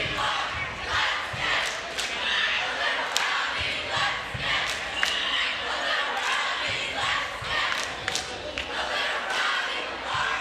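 A high school basketball crowd at a Barstow School home game cheers and shouts in a gym, a continuous roar of voices with chants, sharp yells and scattered claps and sneaker thuds throughout.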